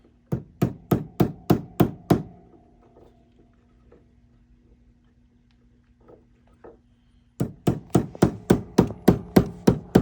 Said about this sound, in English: I think I'm going to use a hammer to put these into place.